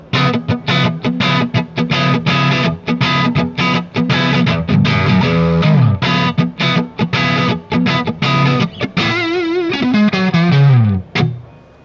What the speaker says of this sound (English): We can turn the gain up a little bit here and get even a little more push out of it.